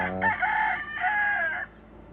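A Sweater gamefowl stag rooster, about 8 months old and weighing roughly 1.8 to 1.9 kg, crows close by in a backyard. One loud, drawn-out cock-a-doodle-doo rises and then holds steady before cutting off, with no talk over it.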